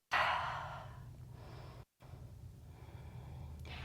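A single long exhale during a yoga flow opens loud and airy, then tapers off into quiet room tone, followed after a short break by soft background hush.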